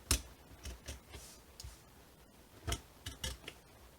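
A seam ripper cuts small marks into bag fabric, giving a scattered series of faint, sharp snips and clicks with quiet pauses between them.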